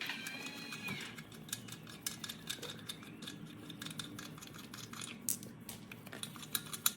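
A socket clicks and clinks on the lug nuts of a Tesla Model 3 as they are unbolted, giving scattered metallic taps and rattles, fairly faint, over a steady background hum.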